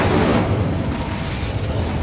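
A fiery Incendio spell blast in Hogwarts Legacy roars out as one loud, dense burst, followed by a sustained, rumbling crackle that stays strong and close for about two seconds.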